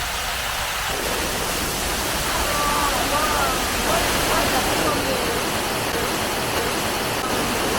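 Waterfall at Cerro Azul, Panama, a steady broadband rush of falling freshwater that holds even and continuous throughout, with faint voices briefly audible in the background.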